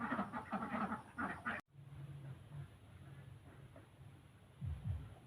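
Pet ducks quacking in short bursts near the end, preceded by a few faint calls, against a steady low outdoor background hum; no one speaks.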